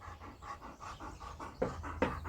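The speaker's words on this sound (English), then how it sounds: "The family dog Donna has just come over to say hello." Donna, a family dog, pants up close in quick, rhythmic breaths, faint but steady, with a few slightly louder huffs toward the end and no talking.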